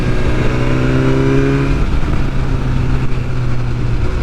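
A 2022 BMW S1000R motorcycle, a 165-horsepower naked bike, pulls away and accelerates hard, its engine note rising steadily and loud throughout with a smooth, continuous rev.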